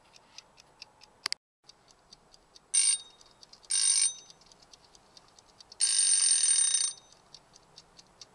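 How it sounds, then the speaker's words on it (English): A kitchen timer's bell ringing in a kitchen, three bright metallic bursts with the longest coming last, each standing alone against near silence with soft ticking between them. "we'll come back and check on this when the bell goes off"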